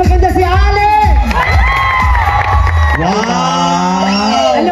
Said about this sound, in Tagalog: Pumalakpak ang nagsasabing maganda ako!